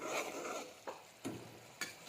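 A spoon stirs onions with a splash of water in a pan, giving a quiet wet sizzle broken by three or four short scraping strokes.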